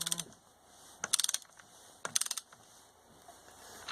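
A wrench ratchets in short clicking bursts while tightening a clutch center hub onto a transmission input shaft during a motorcycle engine and transmission rebuild, with two clusters of rapid close clicks separated by quiet pauses.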